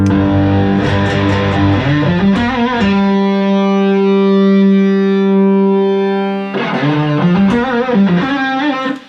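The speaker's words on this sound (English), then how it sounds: "you can hear the hiss from the pedal there" Electric guitar through a fully cranked analog drive pedal into an AX8 processor, with loud clipped distortion on strummed and sustained notes and a held ringing chord in the middle, all without talking.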